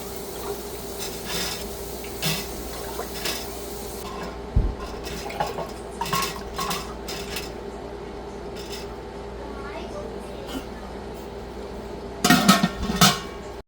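Glass canning jars set down into a metal canner in a home kitchen, giving a few scattered clinks and knocks with a louder clatter near the end over a steady background hum.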